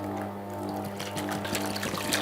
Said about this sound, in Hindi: इसी बर्तन में हम थोड़ा सा पानी डाल देंगे